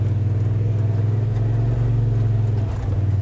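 A Polaris RZR XP 1000 turbo side-by-side climbs over loose granite, its engine a steady, loud, close rumble that holds an even drone throughout with a slight dip near the end.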